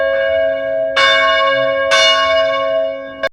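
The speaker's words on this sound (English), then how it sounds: "So this is the sound of bell" A metal bell is struck and rings out with a bright clang. Three strikes come about a second apart, each leaving a sustained, shimmering tone that hangs between hits.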